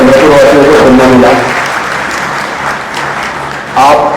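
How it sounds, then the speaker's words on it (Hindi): Loud audience applause for a speaker after a lecture in Chandrapur, dense clapping under a voice at first, easing slightly before a final loud swell. "एक बार जोरदार तालियां हो जाए देवदत्त जी के लिए"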